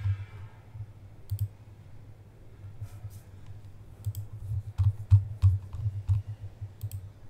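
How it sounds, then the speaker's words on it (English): Computer mouse and keyboard clicks at a Windows 11 PC, light and close, coming in scattered bursts that grow busier toward the end over a low steady hum, with no talk. "Right click on it and select restart."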